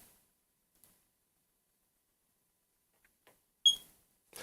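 A household smoke detector gives a single short, high electronic chirp near the end of a mostly silent room, followed by a faint click.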